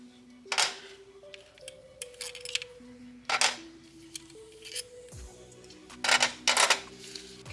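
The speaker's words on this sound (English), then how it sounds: "Now it's time to take the mounting bolts to the cylinder head to bolt the ignition coil" Ignition coil mounting bolts being removed from the cylinder head of a Mk7 GTI: a string of close, bright metallic clicks and ratcheting clinks in uneven bursts, with short pauses and no talking.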